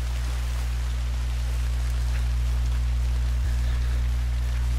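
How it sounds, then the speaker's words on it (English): Heavy rain pouring down in the Red Dead video game, a steady, loud, unbroken hiss over a low constant hum, with no voices. "Pouring down the rain, man."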